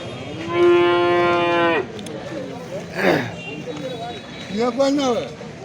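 Cattle at a busy livestock market: one loud, close, drawn-out moo, followed by shorter lowing calls, with people talking and crowd noise in the background.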